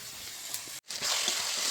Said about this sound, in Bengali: এই দেখো এখন মশলা পেস্ট দিয়ে দিচ্ছে